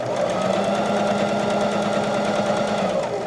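A sewing machine stitches steadily around a curve in fabric, going over a seam, its motor whirring in a continuous, loud, close-up drone with a fast even needle rhythm throughout.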